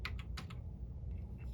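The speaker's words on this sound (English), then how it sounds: "I can control the playback with the keyboard." Computer keyboard keys pressed in a few quick, faint clicks near the start and a couple more later, while editing in an early version of Final Cut Pro X, with steady low background hum.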